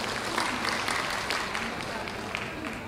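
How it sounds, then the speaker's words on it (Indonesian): Audience applause at an Indonesian education gathering in North Sumatra, a soft, steady wash of clapping from a crowd, fairly distant and continuous throughout. "Tepuk tangan untuk kita semua."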